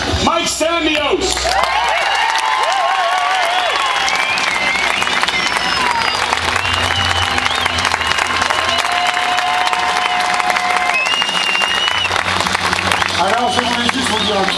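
A rodeo audience applauds the crew at a finale parade, steady dense clapping with scattered whoops and cheers filling the whole stretch, with a voice speaking over it at the start.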